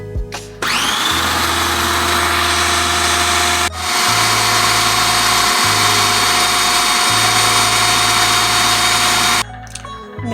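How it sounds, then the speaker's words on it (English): A kitchen blender purees fresh strawberries, its motor whining loudly in several steady runs separated by short pauses, with a sharp start and stop at each end. "Now you want to blend your strawberries until they're nice and smooth."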